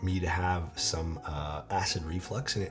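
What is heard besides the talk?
No everyday noises stand out.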